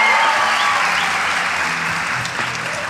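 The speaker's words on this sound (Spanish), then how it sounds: "Fuerte el aplauso" Loud close applause from a live talk-show studio audience, a dense burst of clapping and cheering that gradually tapers off.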